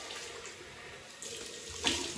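Bathroom tap running into a sink to wet the face before a wet shave with a Merkur 34C safety razor: a steady, moderately faint hiss of flowing water that swells and splashes near the end, with no talk.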